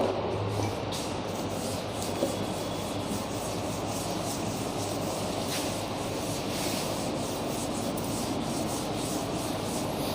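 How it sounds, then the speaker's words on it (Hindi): Steady rubbing of a duster wiping a classroom board clean during a Class 10 maths lesson, a continuous scratchy swish that keeps up without a break for about ten seconds, close and fairly loud. "मैं इसको रब कर देता हूँ"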